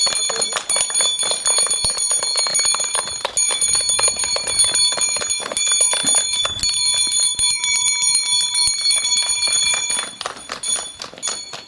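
Electric school bell ringing continuously and loudly at a September 1 school ceremony in Khakassia, a bright sustained metallic ring lasting about ten seconds before cutting off.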